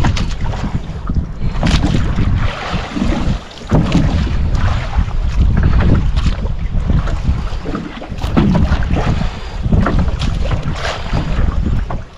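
Waves slosh and slap against a fishing boat's hull at sea in irregular bursts, with heavy wind buffeting the microphone throughout.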